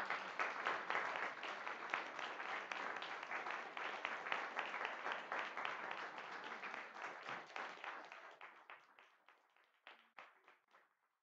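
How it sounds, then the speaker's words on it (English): Audience at a women's diversity forum giving a round of applause, a fairly faint and dense clapping that slowly thins into scattered claps before fading out. "let's give a round of applause"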